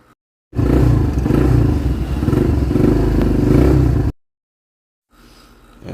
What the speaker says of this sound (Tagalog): ito naman yung tunog nung nagawa na natin, napalta na nga natin ng connecting rod kit